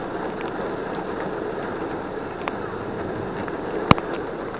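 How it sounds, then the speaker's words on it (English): Rain falling on a moving car, heard from inside as a constant even hiss blended with road rumble, broken by a couple of small sharp clicks. "Driving in the rain,"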